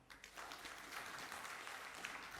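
Applause from an audience welcoming the Regent of Buleleng at a Bank BPD Bali 59th anniversary ceremony, a steady, moderately faint wash of clapping lasting a few seconds without speech.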